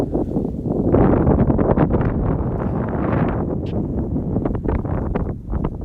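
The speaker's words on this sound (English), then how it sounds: "It is very windy." Strong wind buffets the microphone at the Lake Erie bay, a loud, continuous rushing roar that gusts and pulses without any break.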